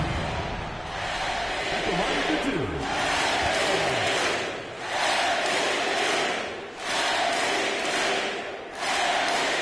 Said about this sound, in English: Listen to the crowd. They are chanting MVP for Evan Harrell.